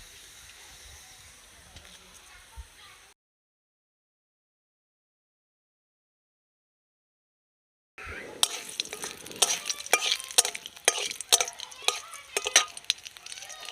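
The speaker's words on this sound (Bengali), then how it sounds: "এবার আমি তেলের মধ্যে দিয়ে দেব ফোড়ন, শুকনো লঙ্কা আর দেব কালো জিরে" Faint background noise, a few seconds of silence, then loud crackling and sizzling of dried red chillies and nigella seeds frying in hot mustard oil, with stirring scrapes.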